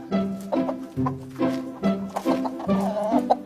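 Chickens cluck repeatedly indoors at close range, with short overlapping calls in a steady, busy rhythm and no talking.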